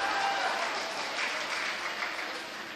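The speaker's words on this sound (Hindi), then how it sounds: "तो जोरदार तालियों के साथ।" An audience at a Pune mushaira applauds a ghazal poet, a full, continuous round of clapping from many hands that holds steady and eases slightly toward the end.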